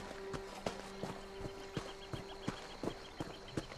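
Horse hooves in Elder Scrolls Online plod at a walk in a steady, evenly spaced clip-clop, moderately close and fairly quiet, with no voices over them.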